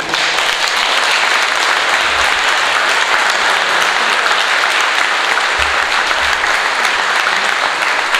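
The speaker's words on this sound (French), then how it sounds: "j'aimerais que vous applaudissiez la personne qui se trouve au bout, Monsieur Robert Saint-Yves" An audience applauds Monsieur Robert Saint-Yves at a tribute gathering, a steady, dense wash of clapping that holds loud and even throughout with no voices over it.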